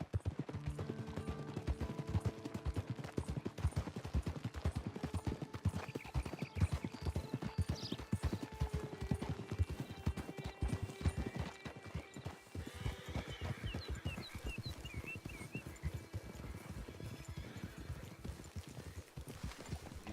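Hooves clip-clopping at a steady walking rhythm in a video game western, close and continuous, with a horse whinnying partway through over faint ambient noise.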